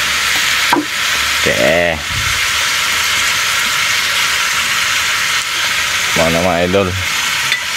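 Sayote and sardines sauté in a hot pan with a steady, loud sizzle, while someone speaks briefly over it twice.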